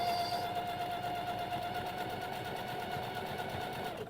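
A sewing machine runs steadily and stitches the seam of an underwired lingerie bra. It gives a continuous close mechanical whir with a fast regular stitching rhythm that stops at the end.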